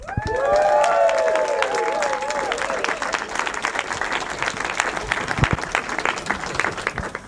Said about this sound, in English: give the biggest Eastbourne Bavard Bar cheer, whoop and welcome to Akiva Solemani